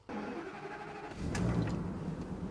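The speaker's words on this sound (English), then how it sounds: "Now that I've started the engine" An RV coach engine cranks and catches, a brief starter churn settling into a low idle rumble, fairly quiet and heard alone.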